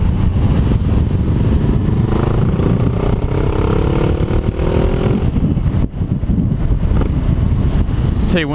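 A 500 motorcycle being ridden, its engine droning steadily under heavy wind buffeting on the microphone, with a brief rising engine tone midway and a short dip near the end.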